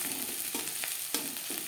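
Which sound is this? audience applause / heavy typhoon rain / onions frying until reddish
onions frying until reddish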